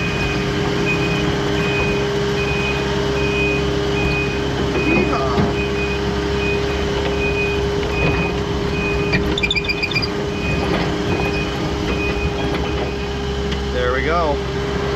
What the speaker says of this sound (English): it is our dump truck